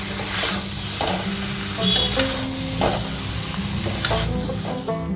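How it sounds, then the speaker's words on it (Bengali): Fried prawns are stirred into Malabar spinach in a sizzling pan, with steady frying hiss and repeated scraping strokes of a spatula close by. "আর এখন পুঁই শাকের মধ্যে এই যে ভেজে রাখা চিংড়ি মাছগুলো মিশিয়ে দেবো।"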